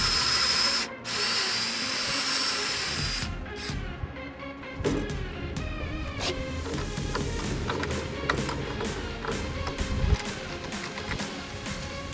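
A power drill drives a Kreg pocket-hole screw into wood of a farmhouse bar table, a loud, close whirring that runs almost continuously after a brief pause near the start, with no voices.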